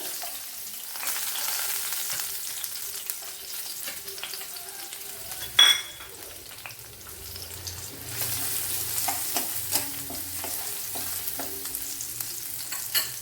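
Seven or eight garlic cloves and a small piece of ginger fry in hot oil for an egg stew, a steady close sizzle with stirring scrapes and one sharp clack of a utensil midway.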